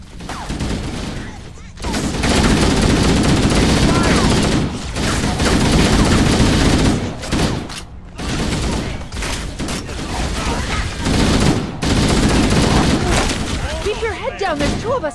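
Rapid automatic gunfire and booming shots from Halo: Combat Evolved aboard the Pillar of Autumn roar loud and dense in long bursts with brief gaps, while voices shout over the battle.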